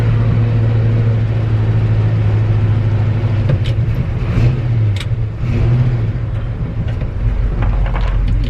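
A 1963 Chevy C30 pickup truck's engine drones loudly and steadily while driving in fourth gear, with a rough mid-range rumble and slight shifts in pitch as it revs.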